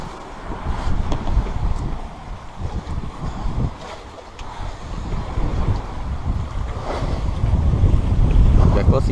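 Steady wind of 12-13 knots rushes over a 37-foot sailboat under way, with broadband buffeting, microphone gusts and water wash building louder toward the end, no talking.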